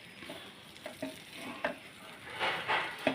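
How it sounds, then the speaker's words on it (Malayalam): Vegetables, tuber and grated coconut stirred with ghee in a pan, a soft steady sizzle broken by scraping spoon strokes that grow louder near the end, with no talking. "നമുക്കിതെല്ലാം ഇളക്കി."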